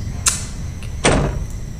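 Locked door rattling in the video game Ao Oni, two short metallic jolts about a second apart over a low ambient hum.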